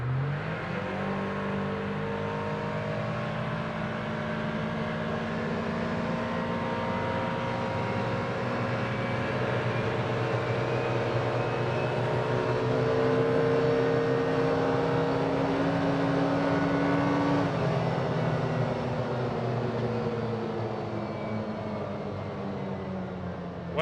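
A Can-Am Defender MAX and a Kawasaki Ridge side-by-side race off the line on a dirt road, engines droning steadily and climbing in pitch together, moderately loud with a gear-change dip near the end.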